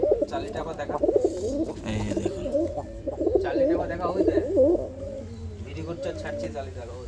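Domestic pigeons coo nearby in low, rolling calls while a person talks over them, the birds' murmuring running under the voice throughout.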